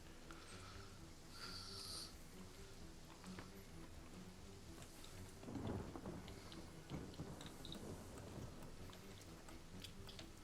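A thunderstorm summoned by a rain spell in a video game: steady rain with rumbling thunder building into a louder crack midway, continuous and fairly close with no talk.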